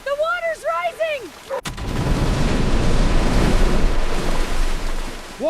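Rising flood water during a firefighter dog rescue: a loud, continuous broadband rush of churning water and wind that follows a brief tonal vocal cry at the start.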